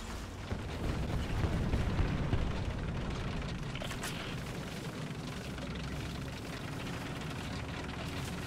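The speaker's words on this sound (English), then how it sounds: "Someone's put an artillery strike on A." Artillery strike explosions in the War Thunder tank game roll in as a dense, continuous rumble of heavy booms, with one sharper blast cracking through midway.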